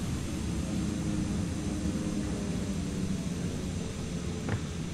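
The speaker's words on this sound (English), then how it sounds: "okay, let's get this thing out of thrust reverse" Airliner engines in Flight Simulator 2020 wind down after thrust reverse on landing, a broad steady roar holding at a constant level throughout.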